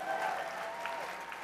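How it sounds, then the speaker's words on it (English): An audience claps at a political talk. The applause is brief and moderately loud, a spread-out wash of hands that stays steady for a moment before tapering off. "Can we get a round of applause for Andrew Breitbart and Rush Limbaugh?"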